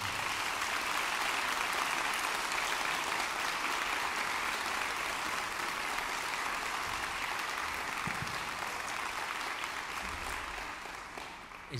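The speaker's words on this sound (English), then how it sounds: "Let's give them a huge round of applause." Audience applause after a choir concert by a chamber choir, a dense, steady wash of clapping from a large crowd that holds for about twelve seconds and tapers slightly at the end.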